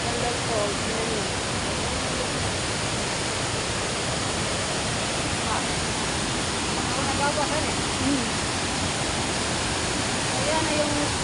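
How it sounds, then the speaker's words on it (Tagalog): Pondol Falls pouring heavily after a typhoon, a dense, continuous roar of rushing water that fills the whole scene at steady volume, with faint traces of a voice underneath. "Ayan na yung Pondol Falls. Ayan, laki ng tubig pa rin."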